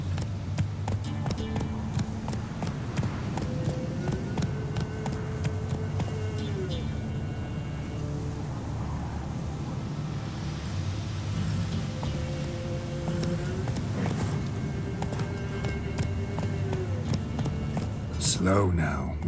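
Roach, a horse in The Witcher 3, gallops with steady clip-clop hoofbeats under continuous game music and a voice talking throughout, slowing near the end.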